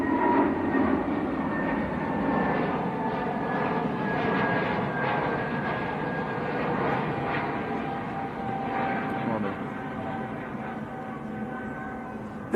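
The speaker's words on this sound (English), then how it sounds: "British Airways lifting off out to London Heathrow," British Airways airliner lifting off from Manchester Airport bound for London Heathrow, a steady, fairly distant jet roar with a faint whine that holds throughout.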